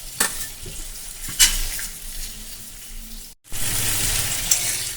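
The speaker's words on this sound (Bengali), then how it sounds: "মিডিয়াম ফ্লেমে রেখে আমি 2 থেকে 3 মিনিট এইভাবে ভাজা করে নেব পটল, আলু, কুমড়ো দিয়ে।" Pointed gourd, potato and pumpkin pieces fry in a pan over a medium flame with a soft, steady sizzle, punctuated by a few utensil stirs and a brief pause before the sizzle returns louder.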